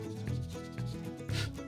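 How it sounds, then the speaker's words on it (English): Fine sandpaper rubs back and forth over a small carved wooden book, a soft, faint scratchy rasp in short, repeated strokes. "Just going over it with this really fine sandpaper"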